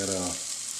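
Garlic sizzling in oil in a pan for a red fish stew with coconut milk and tomatoes, a short, loud, steady frying hiss with a fading low tone early on, heard alone.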